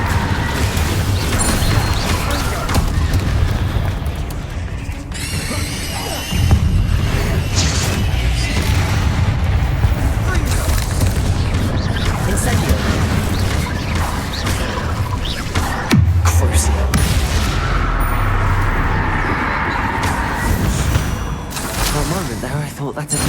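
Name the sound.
Incendio fire spell blasts in the video game Hogwarts Legacy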